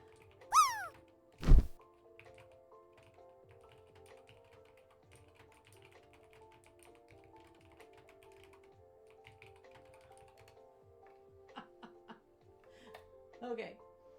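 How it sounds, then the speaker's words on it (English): Someone types a message on a computer keyboard: soft, quick, irregular key clicks run quietly for several seconds over a steady low hum, after a short high sliding call and a dull thump at the start. "so I'll just type to her real quick"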